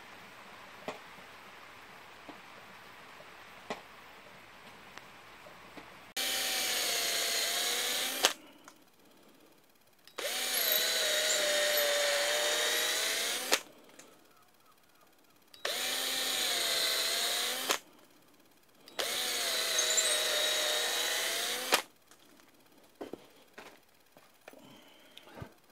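Power drill driving four-inch screws into 3-by-2-inch timber while building the inside of an allotment polytunnel, in four loud sustained bursts of a few seconds each separated by quiet pauses with faint background ticks.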